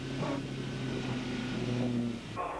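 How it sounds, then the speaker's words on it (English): Several 450-horsepower TVR Tuscan race cars rumble past in a 1994 race heading toward Copse Corner, a steady low engine drone with sustained tonal harmonics, moderately close and continuous, with a brief dip and a fresh surge near the end. "The 450 horsepower Tuscans rumble their way down to Copse Corner"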